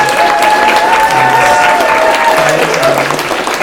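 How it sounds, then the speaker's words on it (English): Sustained audience applause fills the room at a trans forum essay reading, steady dense clapping from a crowd with a faint tonal hum running beneath it. "Let's give a round of applause for Cecilia."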